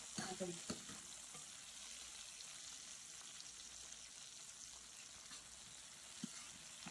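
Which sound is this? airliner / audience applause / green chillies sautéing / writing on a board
green chillies sautéing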